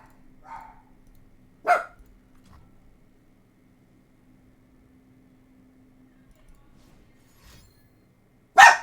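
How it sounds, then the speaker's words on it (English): A few isolated, sharp dog barks come from the background, separated by long near-silent gaps with a faint steady electrical hum, and one bark lands at the very end. "Sorry if the dogs are barking in the background."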